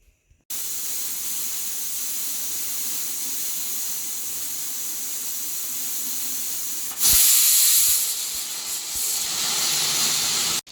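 Pressure cooker full of dal hisses with a steady loud jet of steam for several seconds, then the whistle surges sharper and brighter before cutting off at the end.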